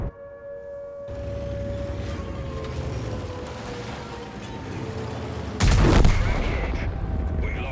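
A tank cannon fires once in the World of Tanks video game, a single loud, sharp blast over a steady engine drone, with a fading rumble afterward.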